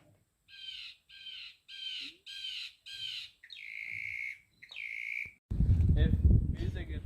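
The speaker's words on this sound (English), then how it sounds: "Northern mockingbirds continue to add new sounds to their repertoires throughout their lives." Northern mockingbird song: a run of five repeated raspy, harsh phrases, then two longer drawn-out calls, clear and fairly close before a burst of rough noise ends it.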